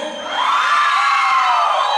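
Audience cheering sections at a Flor Más Bella beauty pageant shouting and whooping for contestants, a loud, sustained crowd roar of high voices that swells after a brief start and holds steady.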